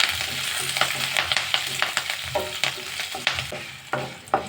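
Green and dried chillies with curry leaves stir-fried in hot oil alongside fenugreek seeds for an amla chutney, a steady close sizzle broken by repeated scraping and stirring clatters of a spoon against the pan.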